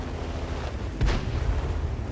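A single heavy tank cannon shot from World of Tanks, fired by a T54E1, lands as one deep, booming blast midway through a continuous low engine rumble, with no voices.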